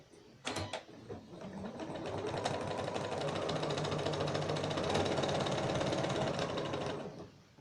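A sewing machine stitches a quilt seam, running steadily for several seconds after a couple of sharp clicks at the start, with a dense mechanical whir close up and no talking.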